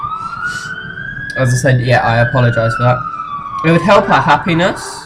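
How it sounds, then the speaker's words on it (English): A wailing emergency siren from outside sweeps steadily in the background, fairly constant throughout, while someone talks over it close by. "I do apologise for the sirens"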